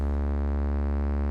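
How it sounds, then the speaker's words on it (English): A Snazzy FX Eternal Spring synth filter producing a wave-folding distortion effect: a steady, dense, buzzy drone that holds loud and unchanging throughout, with no voice over it. "distortion wave folding kind of effect."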